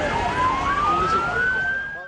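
An ambulance siren wails near a construction collapse site, one steady rising tone layered over a busy street background, loud and close.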